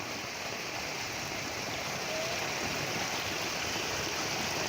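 Flood water released from dam gates after heavy rain rushes through the streets of the Jam Raval area of Jamnagar, Gujarat, a continuous even roar of flowing water, moderately loud and unbroken.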